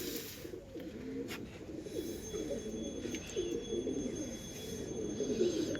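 Pigeons at a home loft, kept for breeding in season, coo steadily in a low, continuous murmur from several birds as a few are released, fairly faint and with no talk over it.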